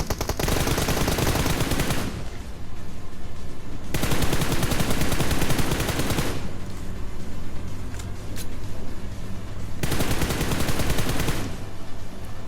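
BGMI video game gunfire, loud dense bursts of automatic shots arriving in long sustained volleys separated by brief lulls, close and harsh.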